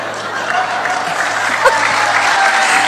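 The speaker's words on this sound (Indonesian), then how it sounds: "Nggak usah tepuk tangan" A church audience applauds during a sermon by a pastor, a steady, loud wash of clapping hands filling the whole stretch without pause.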